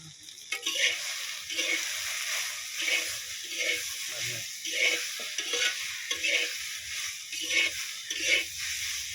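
Spices being stirred and fried in a pan for a dish with drumsticks and lentil dumplings, a steady sizzle under rhythmic scraping strokes that repeat about once a second, close and moderately loud.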